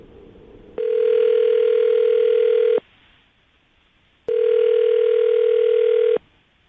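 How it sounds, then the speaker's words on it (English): A telephone dial tone sounds steadily in two long bursts of about two seconds each, separated by a short quiet gap, clear and alone with no talking. "I'm going to dial the phone number right now and get her on the phone"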